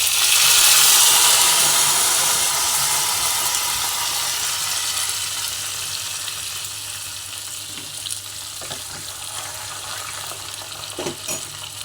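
Tempering of dried red chillies and curry leaves sizzling in hot oil for a bachalakura pappu dal, a loud steady hiss that slowly fades over about twelve seconds, with faint clinks near the end.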